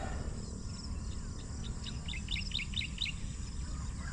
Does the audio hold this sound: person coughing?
no